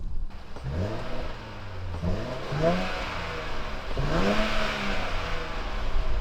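A Nissan Z sports car engine runs and revs in several rising and falling pulls, a smooth, fairly quiet mid-pitched drone close by with whirring overtones, no voices.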